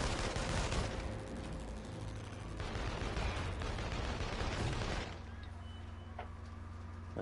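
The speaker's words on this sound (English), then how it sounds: "Who's shooting?" Gunfire from a firefight in the video game inFAMOUS Second Son, a dense crackle of distant shots and bursts over a steady rumbling background that eases slightly toward the end.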